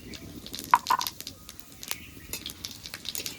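Bay leaves, dried red chillies and whole cumin seeds hit hot oil with a couple of sharp pops at first, then settle into a soft, close crackling sizzle, with no voices.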